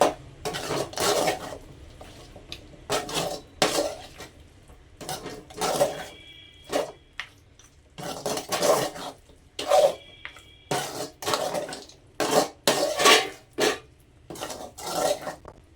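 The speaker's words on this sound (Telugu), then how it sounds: "ఇప్పుడు ఒకసారి మొత్తం కలుపుకోవాలి నీట్గా. ఈ మసాలా అంతా కూడా ఈ ముక్కకు పట్టించేయాలి నీట్గా." Mutton pieces being tossed with masala in a metal pan, a long run of rhythmic spoon scrapes and clanks in regular bursts, close and fairly loud, with no talk over them.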